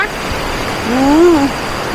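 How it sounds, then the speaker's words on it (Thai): Steady, full rushing roar of Tat Sae waterfall in Laos, heard from the viewing area above, with a voice briefly rising over the constant water noise. "น้ำตกด้านล่างนะคะ"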